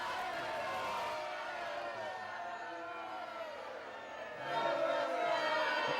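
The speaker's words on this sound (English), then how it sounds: "Hold on, let me get some crowd boo in here." A wrestling talk show drops in a crowd booing effect, a broad, steady arena roar from a large audience that swells louder toward the end.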